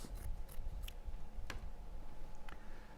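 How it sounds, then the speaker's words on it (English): Scissors cutting a piece of fabric in half, faint snips with a few sharper clicks of the blades against a soft background hum. "cut a piece of fabric and then cut it in half"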